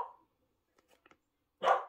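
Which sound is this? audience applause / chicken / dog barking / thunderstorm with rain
dog barking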